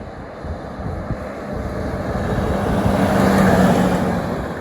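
Diesel Land Rover Defender with an OM606 engine and upgraded intake, driving up a private road: a steady engine note that swells as the vehicle approaches and grows louder near the end, with no talk.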